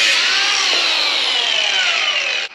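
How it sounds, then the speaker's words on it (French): Coarse-grit sandpaper rubbed by hand over the edges of a model kit part, a continuous loud scratchy rasp lasting a couple of seconds before stopping abruptly. "Je vais poncer juste les entourages pour que la colle adhère mieux."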